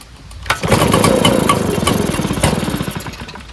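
A backpack leaf blower, an Echo PB-755ST with a new carburetor, fires up on choke after priming and runs with a loud, steady two-stroke roar close by, easing off slightly near the end.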